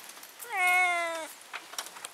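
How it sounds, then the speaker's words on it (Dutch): A cat lying on the bonnet of a car lets out a single loud, drawn-out meow, close and clear, with quiet surroundings before and after. "En dan horen ze wat een verschrikkelijke miauw."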